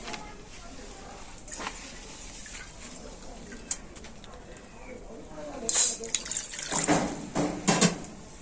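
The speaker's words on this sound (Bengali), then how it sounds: "আমি কড়াতে দিয়ে দেবো আবারও জল" Water is poured from a bowl into a wok, heard as a few close splashing, gurgling bursts near the end after a quieter stretch of kitchen background.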